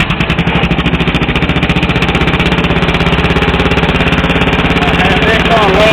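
A racing lawn mower engine runs at low idle, its exhaust thumping in a loud, rapid, steady pulse right near the listener for the whole stretch.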